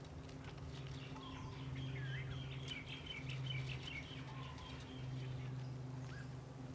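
Bright chirps and tweets from the Angry Birds video game, faint and scattered over a steady low hum, with a few short rising calls.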